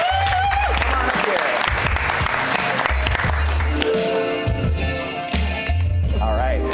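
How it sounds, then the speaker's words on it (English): An audience at a Saturday night showdown show applauds a participant named Raina, with a sustained round of clapping and crowd noise mixed with voices and background music. "Round of applause for Raina"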